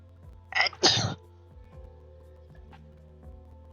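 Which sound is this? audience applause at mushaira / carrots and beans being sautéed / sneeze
sneeze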